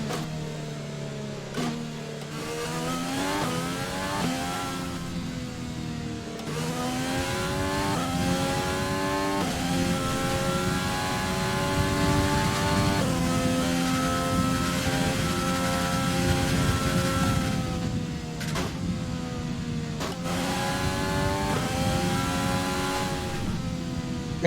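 An F1 car in the F1 2020 racing game screams around the Belgian Grand Prix circuit at Spa, its high engine whine rising through gears with brief dips at shifts, loud and continuous without talk.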